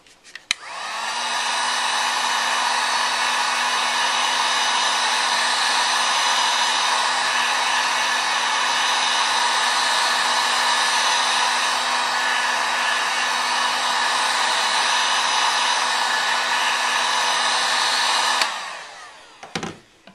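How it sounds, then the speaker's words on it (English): A heat gun blows hot air to soften and peel a label off a storage container, a steady loud whooshing whine that starts abruptly, holds for about eighteen seconds and then cuts off. "Once your heat gun gets going, you don't really have to use it that long anymore because it's already heated up"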